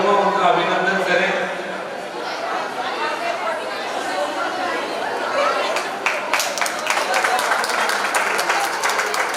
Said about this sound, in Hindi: जोरदार ताली बजा करके